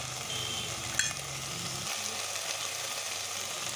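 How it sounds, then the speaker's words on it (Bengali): Salt, turmeric and spices fry in a pan for a Bengali mustard rui fish curry, a steady soft sizzle with one brief clink near the start, lasting throughout with no talking. "তো সব উপকরণ মিক্স করে আমি ভালো করে ভেজে নেব।"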